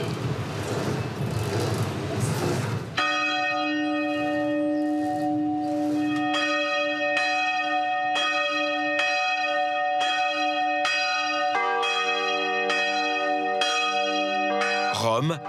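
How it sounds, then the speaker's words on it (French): Church bells ring out over Rome after a burst of noise, several bells striking in steady succession with long resonant tones, loud and fairly close. "nous sommes à peu près au bon moment pour entendre les cloches sonner"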